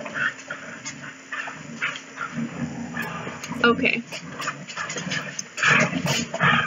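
Several puppies yip, whine and bark at each other in scattered short bursts indoors, with a person talking over them.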